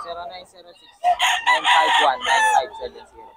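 A Golden Cross gamefowl stag crows loudly and close, one long drawn-out cock-a-doodle-doo after a short stretch of quieter bird clucking.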